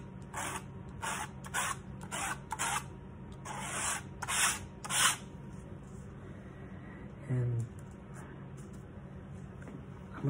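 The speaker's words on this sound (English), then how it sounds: "I'm gonna scrape this off." Oil paint being scraped off a canvas, a thin layer coming away in a series of short, close, dry rubbing strokes, then a quieter stretch with a few small handling noises.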